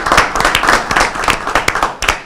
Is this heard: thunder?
no